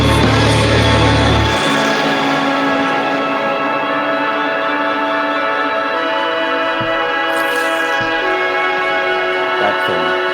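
A sustained feedback texture inside a music track rings as dense, layered tones that hold steady and drone on, loud and continuous with no voices.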